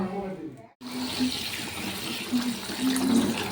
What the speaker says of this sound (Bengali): এগুলো একটুখানি জল বুলিয়ে নেব